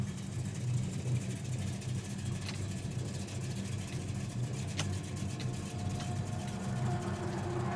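A 1969 Plymouth Roadrunner with a 383 V8 driving along, a steady low engine rumble and road noise from inside the car, even and continuous with no talk over it.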